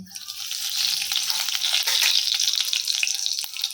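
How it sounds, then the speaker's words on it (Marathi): Mustard seeds and cumin spluttering in hot oil for an eggplant dish, a loud, close, crackling sizzle full of rapid pops that runs steadily throughout, with no talk. "तेल तापले मोहरी टाकली जिरं टाकूया"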